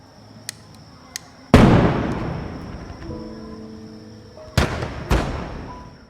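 Fireworks burst in a film's closing scene: a loud sharp blast followed by a long crackling decay with a low rumbling hum beneath, then two more bangs in quick succession near the end, preceded by a couple of small faint pops.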